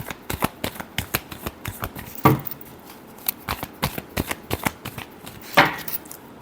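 Tarot cards shuffled by hand in a run of quick crisp riffling flicks, close and fairly quiet, with a couple of louder bursts where the deck is bridged or squared.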